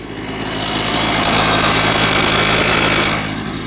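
A two-stroke engine on an old steel dusting rig runs steadily at close range, a dense buzzing drone that swells slightly and holds before easing off near the end, with no voices.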